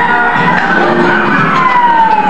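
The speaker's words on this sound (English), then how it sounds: "So it's a siren here." A loud, continuous siren with sliding wavering tones plays as part of an art installation built from sounds of Tijuana, filling the space close and alone without talk.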